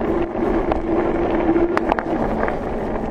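Wind buffets the microphone while an electric OneSpot ONES3 café-racer-style fat bike is ridden on a cold day, a steady rushing roar with gusts, close and loud throughout.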